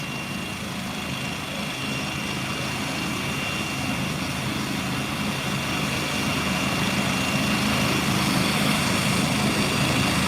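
A medical aircraft, likely a helicopter, takes off carrying a patient at an emergency scene in North County San Diego, its steady engine and rotor drone continuous and fairly loud throughout, gradually swelling slightly.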